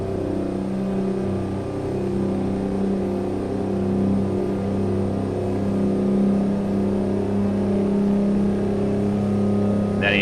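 A Mack R truck with a two-stroke engine in American Truck Simulator drones steadily and loudly throughout, a continuous engine hum that holds near-constant loudness without clear surges.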